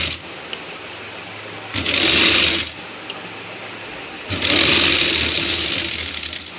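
An electric sewing machine stitches the main seam of a Rajputi suit sleeve, running in two loud whirring bursts separated by quieter motor hum, close to the microphone.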